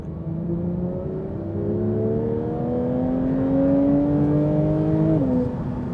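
A Manthey Racing Porsche 911 GT3 accelerates hard on a wet road, its engine note climbing steadily through the rev range with a sharp drop at a gear change, loud and close from inside the car.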